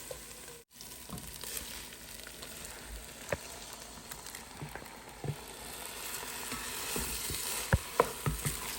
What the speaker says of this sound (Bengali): জাস্ট এই পোলাওটি রান্না করতেছি